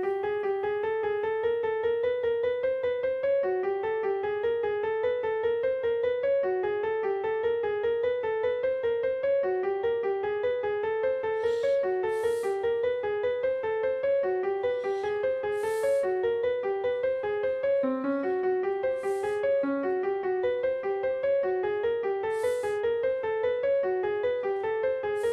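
A composed ramp-up line plays as a music excerpt, a repeating melodic figure of steady pulsing tones that climbs in short phrases, with bright high accents entering about halfway through and recurring every few seconds.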